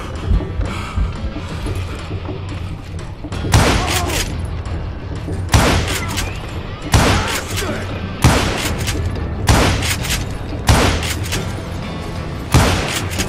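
Pistol gunfire from dual pistols in Call of Juarez Gunslinger, a Western shooter, with loud sharp shots in spaced bursts every second or so over a steady game background, with no talk.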